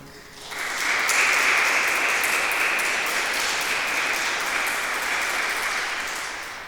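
Sustained applause from a church congregation during a Sunday Mass, a dense steady wash of many hands clapping that swells quickly, holds evenly for several seconds, then begins to taper.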